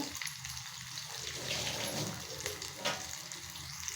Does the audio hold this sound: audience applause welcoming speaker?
no